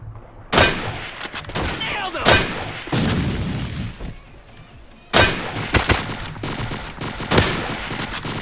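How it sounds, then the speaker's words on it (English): Gunfire in the Roblox WWII game: loud, sharp shots and short bursts come in clusters, with booming reports and quieter gaps between volleys, and a voice is faintly present in places. "I really just shot him in the head and got a hit marker"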